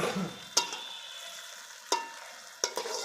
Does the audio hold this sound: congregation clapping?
no